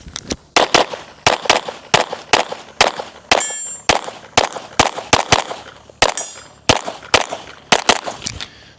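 Rapid pistol shots at a practical shooting practice stage, each sharp crack often followed by a ringing clang of a steel target, roughly twenty reports in quick uneven bursts, close and loud with no talk.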